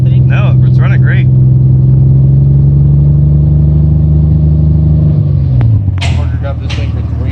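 A Toyota Supra that sat unrun for ten years roars close by with a loud, steady engine drone before the pitch drops away near the end, while people talk briefly at the start and finish.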